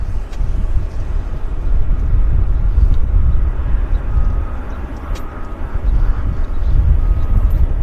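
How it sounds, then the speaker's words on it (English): A Q400 turboprop airliner arriving at Vancouver airport, a loud, steady low rumble with wind buffeting the microphone throughout, alone without talk. "this Q400 coming in from Terrace"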